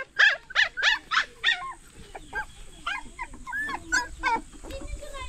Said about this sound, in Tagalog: Nakasunod yung dalawang aso mga kabayan sa akin